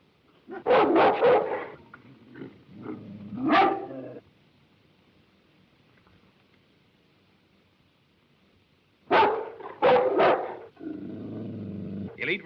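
A dog barks in two loud bursts of several sharp yelps, separated by a long quiet stretch, with a rough, growling edge toward the end.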